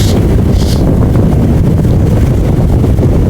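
Strong headwind buffets the microphone during a heavyweight men's collegiate rowing race on open water, a steady loud low roar filling the whole stretch with no talk.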